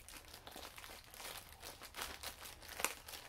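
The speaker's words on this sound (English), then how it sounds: "let me take one of these out because I can't really see the label properly through all that plastic" Plastic packaging crinkles and crackles as a Lion Brand yarn skein is pulled free, a close, irregular run of rustling bursts with one sharp crackle near the end, no talking.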